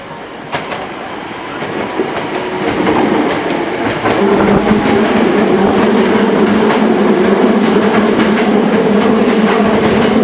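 A Hankyu Railway train at a Japanese station, rumbling and clattering steadily, growing louder as it rolls in and then holding a loud continuous rail noise with faint wheel squeal.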